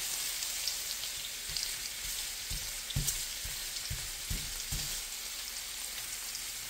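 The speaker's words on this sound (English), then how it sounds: "so I'm cooking the sausage now" Sausage pressed flat frying in a pan gives a steady close sizzle with a few soft taps and scrapes as it is handled.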